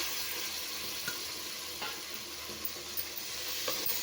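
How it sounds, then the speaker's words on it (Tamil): Cut tomatoes dropped into an onion, ginger and garlic paste frying in a cooker for Chettinad mutton biryani, giving a steady broadband sizzle with a few soft stirring clinks, close and alone without talk. "இப்போ 2 பெரிய சைஸு தக்காளி பழம் வந்து கட் பண்ணி வச்சுருக்கேன், சேர்த்துக்கலாம்"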